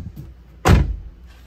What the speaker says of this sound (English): listen to this door. Sounds like a tin can